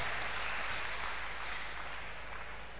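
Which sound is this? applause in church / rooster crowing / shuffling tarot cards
applause in church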